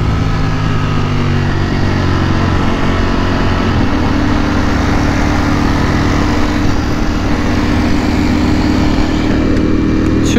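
Steady, loud engine roar of two Ducati Panigale V4R sport motorcycles riding by the beach, a continuous droning rumble close by with no pauses and no talking.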